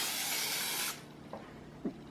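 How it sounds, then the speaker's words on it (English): A loud, close hissing burst of coconut oil spray onto an air fryer rack lasting about a second, followed by quiet and a couple of faint handling taps. "I am just going to use a little bit of coconut oil and spray it on the little rack in the bottom"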